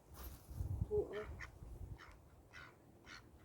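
Ducks quacking on Loch Lomond, a few short calls in separate bursts close by, over low rumble from the water and the boat.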